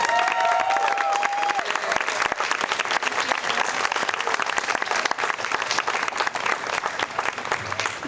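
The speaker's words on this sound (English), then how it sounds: "Let's give them one last round of applause." An audience at the Imagine! 2022 program gives a final round of applause, dense and sustained clapping with some cheering that fills the whole stretch without letting up.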